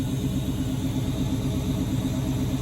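Car engine idling steadily after a cold start, a continuous low, even rumble with a faint rhythmic pulse, close and fairly loud, no voices.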